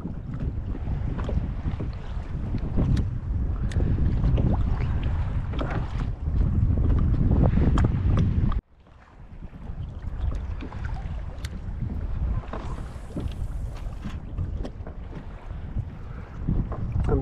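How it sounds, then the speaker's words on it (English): Strong wind buffets a small fishing boat drifting fast at sea. Loud, continuous roaring gusts rattle against the microphone, with one abrupt dip partway through before the blustering resumes. "the wind is too much"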